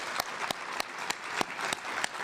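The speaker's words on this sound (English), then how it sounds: "Please join me in giving another round of applause for Dr. Terence Campbell." An audience at a lecture on parental alienation claps, soft and fairly distant, with a few sharper individual claps standing out over the quiet background.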